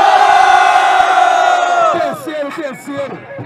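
A live crowd at a freestyle rap battle roars with loud, sustained cheering and shouting, then breaks into scattered whoops and yells as the noise thins toward the end.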